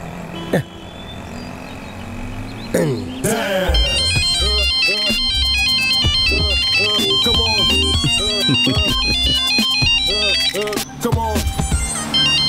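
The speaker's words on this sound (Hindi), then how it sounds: "अरे किसका फोन बज रहा है" A melodic mobile phone ringtone plays loudly and steadily in repeating phrases, with voices talking over it and some background rumble.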